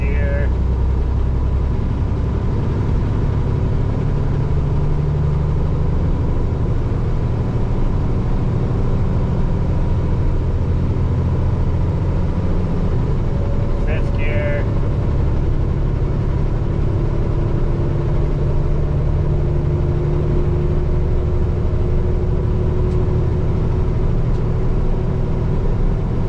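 A loaded new 2025 Kenworth W990 truck drives along with a continuous heavy engine drone that rises and falls through gear changes, while someone talks over the steady rumble.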